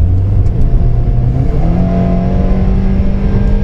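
Loud in-cabin drone of a Honda car under full throttle from about 80 km/h, with the engine note climbing steadily in pitch as it accelerates.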